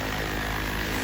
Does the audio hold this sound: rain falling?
no